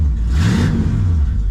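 A Ford 460 big block V8 in a wagon, fitted with 3-inch dual exhaust and electronic cutouts open, revs loudly and close up in one rising and falling surge.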